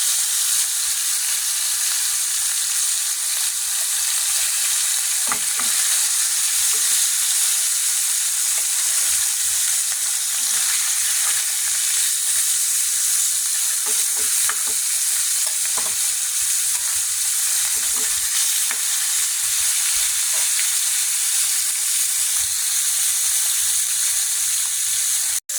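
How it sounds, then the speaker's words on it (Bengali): Rohu fish head frying in hot oil in a wok, a steady dense sizzle and crackle with occasional sharper pops, loud and close with no talking. "আমি এবার মাছটা দিয়ে দিব, মাথাটা আগে দিব, যেহেতু মাথা ভাজতে অনেক সময় লাগে"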